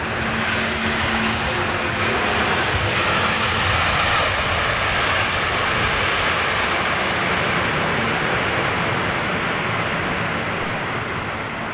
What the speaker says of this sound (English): Oh, that's that American 777 starting up down there.